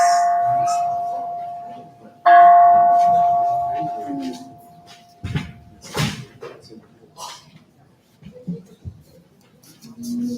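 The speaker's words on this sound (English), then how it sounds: "With the ringing of the bell, we will begin this morning's bone service." A bell rung to open a morning Bon service, struck twice with clear sustained ringing tones that slowly decay, followed by quieter rustling and shuffling.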